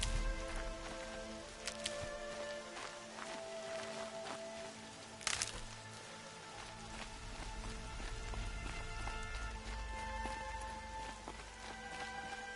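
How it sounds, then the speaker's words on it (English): Soft steady rain in the game Horizon Zero Dawn patters on surfaces with scattered sharper drops and a few brief knocks, quiet and continuous. "Rain's not so bad."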